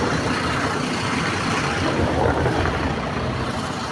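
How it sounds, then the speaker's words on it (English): A noisy garbage truck drives by nearby, a loud, steady broadband engine roar and rumble filling the whole stretch without voices. "Nice, beautiful, noisy garbage truck right here."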